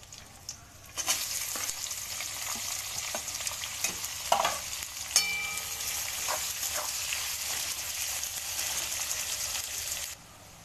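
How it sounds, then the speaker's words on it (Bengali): Onions, whole garam masala and bay leaves frying in hot oil for chicken curry, a steady close sizzle throughout with occasional stirring scrapes and clinks, no talking. "ওই তেলে দিয়ে দেবো গোটা গরম মশলা, গোটা তেজপাতা, দিয়ে দেবো কটা পেঁয়াজ।"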